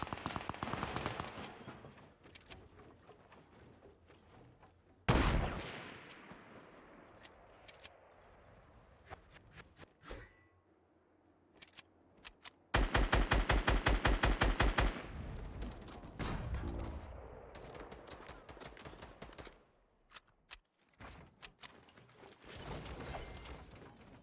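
Gunfire rattles through a Fortnite battle royale match in rapid automatic bursts and single cracks, with a loud dense volley in the middle and scattered shots and mechanical clicks around it, no talking.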